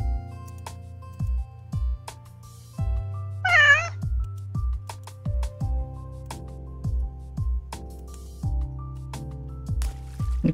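A cat meows once in the middle over a steady rhythmic musical backing with repeated low beats; the meow is a short, rising-and-falling call, fairly clear above the music.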